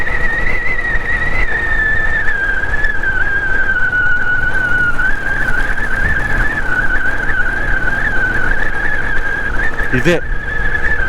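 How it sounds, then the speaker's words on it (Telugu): Wind roars loudly through a raised motorcycle helmet visor while riding, a steady close rush with a thin whistling tone running throughout. "ఇదే సౌండ్ వస్తుంది వైజర్ ఎత్తితే"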